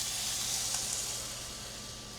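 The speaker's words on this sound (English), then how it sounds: "Now I'm just going to let this simmer just a little bit until that flour thickens up that broth" Tomato paste, Worcestershire sauce and beef broth simmer in a pan, giving a steady soft sizzle and hiss that stays even and fades slightly toward the end, with no talking.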